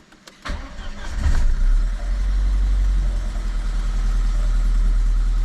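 A cheap used car's engine cranks briefly, catches and settles into a steady, loud idle with a low rumble, heard close up with no talking.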